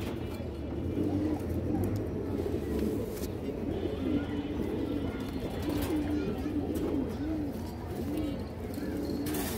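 Ring-eyed flying pigeons, a pair among other kept pigeons, cooing in repeated low, wavering phrases over constant background noise, with faint talking mixed in at times.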